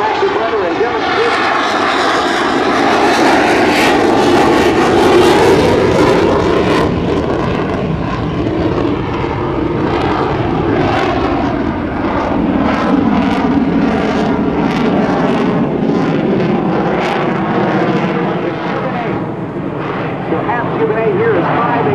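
A US Navy F/A-18C Hornet jet roars past at an air show demonstration, a loud sustained engine rush that swells and fades while a commentator talks over it continuously.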